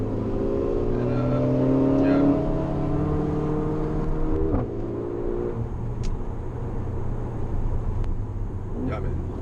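Mercedes-AMG GLA 45 driving with a steady engine drone and rising harmonics from acceleration, heard from inside the car, with no speech over it.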